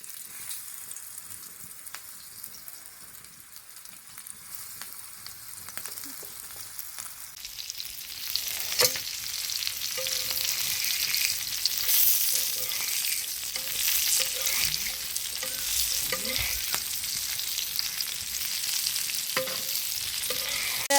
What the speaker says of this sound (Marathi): पहिल्यांदाच आपण हे बांगडा आता फ्राय करून टाकूया तव्यावरती